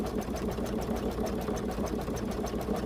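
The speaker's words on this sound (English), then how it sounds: "after it does the satin stitch" A Baby Lock embroidery sewing machine sews a satin stitch. It makes a steady, fast mechanical whirring with a rapid, regular needle rhythm that carries on without a break. The machine is close and there is no talking.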